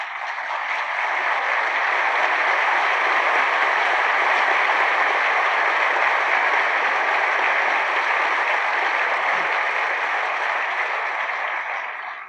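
Sustained applause from a large crowd at a 1969 college commencement fills the space evenly, a dense, steady clapping that holds without a break before tapering at the very end.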